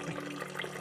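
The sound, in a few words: nutrient water flowing through a hydroponic DFT system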